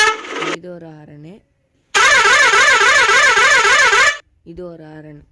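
Bus air horn blaring loud and steady with a rapidly warbling, wavering tone for about two seconds, framed by someone speaking before and after with a silent gap in between.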